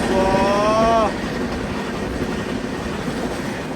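Jhelum Express passenger train running at cruising speed between Delhi and Faridabad, a steady loud rumble of wheels and carriages with a brief squeal early on, while someone talks over it.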